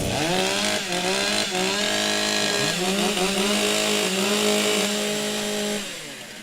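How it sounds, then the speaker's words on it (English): Several STIHL chainsaws rev and idle together during warm-up at a New Zealand timbersports championship, a loud, continuous, overlapping engine whine with rising and falling pitch that tapers slightly at the end. "Warm up your saws."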